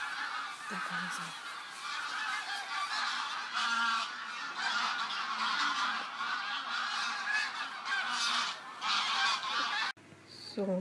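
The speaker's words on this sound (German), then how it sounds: "Da kommen sie, die Gänse. Ich höre sie schon." A large flock of geese honks overhead outdoors, dense overlapping calls sustained and fairly near, with an occasional voice in the background.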